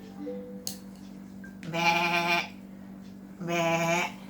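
A white goat gives two drawn-out, wavering bleats, close and fairly loud, separated by a short quiet pause.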